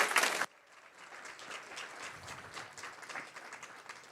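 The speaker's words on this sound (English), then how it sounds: "So let's give a round of applause to our sponsors." Audience applause for sponsors at a New York data conference main stage opens with a loud close burst, then settles into fainter, distant clapping from a large room.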